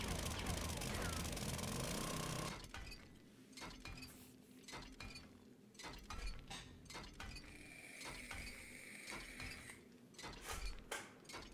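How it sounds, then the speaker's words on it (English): Clanking, ratcheting metal-on-metal mechanism sounds from wrenching on machinery in the 7 Days to Die survival game, a string of clicks and clinks with a brief talk-like passage at the start and a bright whine later. "wrenching on these things"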